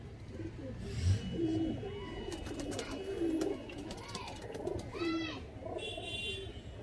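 Repeated soft cooing from a long-beaked, small adult Kala Jiriya pigeon in a loft, rising in several close bursts while people talk nearby.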